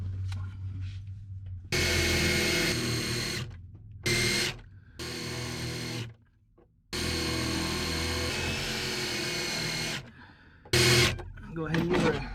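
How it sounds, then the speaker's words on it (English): A drill grinds out spot welds on a 1932 Ford sedan in several bursts of varying length, loud and close, separated by short pauses with a voice speaking in between. "we're gonna go ahead and drill those spot welds out"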